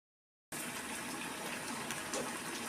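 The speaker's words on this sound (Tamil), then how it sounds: "தண்ணி ஊற்றி நல்லா கொஞ்சம் பிறுபிறுன்னு அரைச்சிட்டு வரோம்." Water pours steadily into a ground coconut, shallot and green chili mixture for a chayote kootu, a continuous close gush that starts abruptly and carries on alone.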